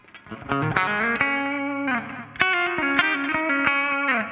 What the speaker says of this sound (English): got a delay